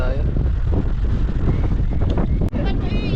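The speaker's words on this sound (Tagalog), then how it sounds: "Ay, ang lakas ng hangin" Strong wind at sunset in Agoo, La Union, Philippines, buffets the microphone in a steady, heavy roar, with a brief dropout partway through.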